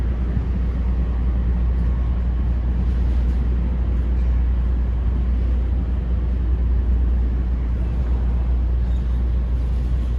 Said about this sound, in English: Can you hear the rumble of the engines?